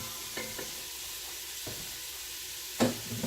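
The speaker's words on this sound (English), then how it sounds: "So what I'm doing is I'm sauteing the onions and the garlic" Onions and garlic sautéing in a pressure cooker, a low, even sizzle with a few scattered scrapes and one louder clunk near the end.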